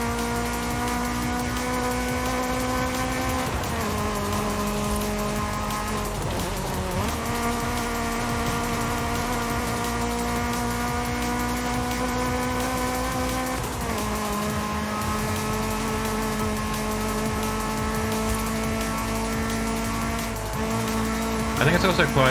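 The high-revving VTEC engine of an Acura with upgraded cams screams in Forza Horizon 5, holding long sustained notes that dip at each gear change, then climb again; a voice talks over it at times.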